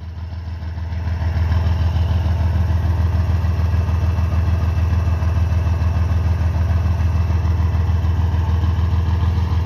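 A Mercedes-Benz 1621 truck diesel engine rises from a low idle into a steady, loud rumble that holds evenly close by, with no talk over it.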